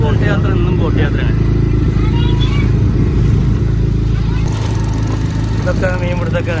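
A motor boat engine drones steadily and loudly on Vembanad backwater lake near an island, holding an even hum throughout without pause.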